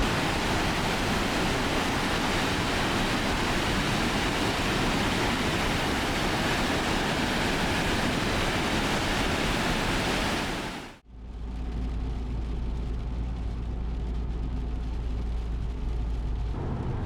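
A fast-flowing mountain river on the Joffre Lakes trail in British Columbia rushes steadily as loud, dense broadband roar, briefly cut off near the end before resuming slightly quieter and steadier.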